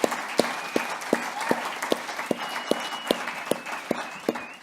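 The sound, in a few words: applause for a singer's performance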